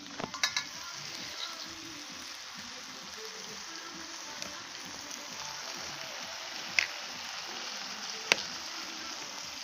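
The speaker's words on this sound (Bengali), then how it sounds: "এবার এই চিকেনটা দিয়ে আমরা কিন্তু খুব সুন্দর করে একটু ভাজা ভাজা করে আর কষাবো" Pieces of country chicken fry and get stirred in a pan with no water added, a soft continuous sizzle with occasional sharp utensil knocks and scrapes close by.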